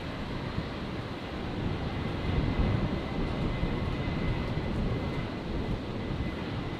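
A Virgin airliner taking off from Brisbane Airport on runway 01 right, bound for Melbourne: a steady, broad engine roar with rushing noise, held at a constant moderate level throughout, with no voices.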